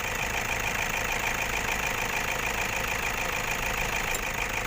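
A Toyota Vigo Champ 2500 pickup's 120 hp diesel engine, eight years old, idles steadily close by, with a constant low knocking chug and no change in pace throughout.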